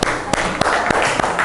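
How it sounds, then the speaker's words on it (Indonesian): Sharp hand claps ring out in a classroom, about five single claps at a steady beat, slightly spaced, layered over a speaking voice. "Ya, saya tepuk tangan dulu dong."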